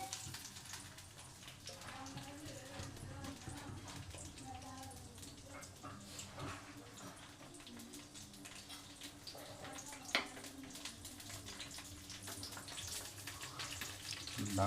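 Food frying in a pan gives a steady hiss and sizzle with scattered pops, one sharp pop standing out near the end, while a person talks intermittently over the cooking.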